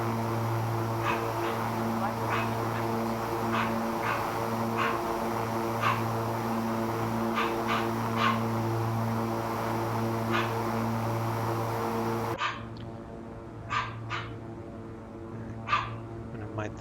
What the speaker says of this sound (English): Mute the microphone for a moment since my dog's barking.